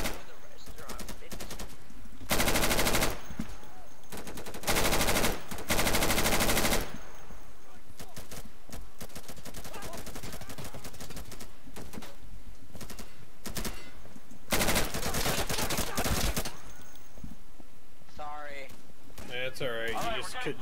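Bursts of automatic gunfire from the combat video game Insurgency come in loud volleys separated by quieter stretches, with people talking over the shooting.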